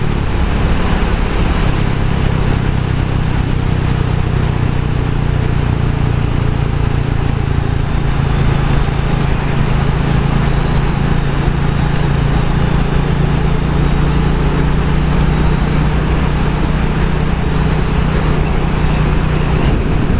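Royal Enfield Classic 350 motorcycle riding on a road, a loud, steady low engine thrum mixed with constant wind rush, unbroken for the whole stretch.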